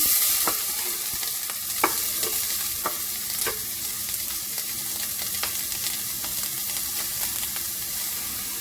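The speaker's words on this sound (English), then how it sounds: "put a little olive oil in a hot pan and put in about half of a chopped onion" Half a chopped onion frying in olive oil in a hot pan, a steady close sizzle punctuated by regular scraping stirs, with no talking.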